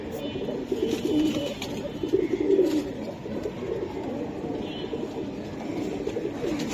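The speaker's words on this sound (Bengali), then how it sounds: "গড়া কবুতর আরেকটা" Gola pigeons coo repeatedly nearby in soft, throaty, rolling calls, with some quieter murmuring voices in the background.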